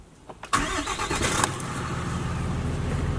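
A 6.7 liter Cummins turbo diesel in a 4x4 six-speed manual truck cranks with a couple of brief clicks, then catches with a loud burst and settles into a close, rumbling idle.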